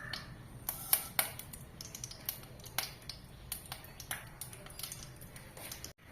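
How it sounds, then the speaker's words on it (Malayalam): Mustard seeds spluttering in hot oil in a pan, a sparse series of sharp pops and crackles at irregular intervals, faint and close, with no talking. "കടുക് പൊട്ടിയിട്ടുണ്ട്."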